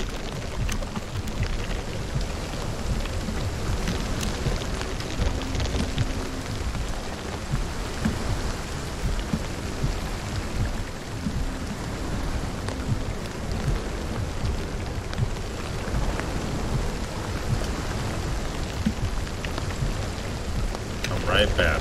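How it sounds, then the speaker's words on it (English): Steady heavy rainfall in the video game Hunt: Showdown hisses continuously across the whole stretch, loud and dense, with faint low rumbles underneath and no talking. "Fucking rain, I can't see shit."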